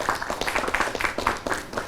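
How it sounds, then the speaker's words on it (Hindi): A studio audience applauds to welcome a guest, a steady patter of many hands clapping at moderate loudness. "तो तालियों के साथ आपका स्वागत तो हो गया।"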